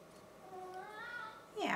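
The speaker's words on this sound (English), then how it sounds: "You can hear my kitty crying for attention." Cat cries for attention indoors, giving one drawn-out, rising-and-falling meow at moderate level in a quiet room.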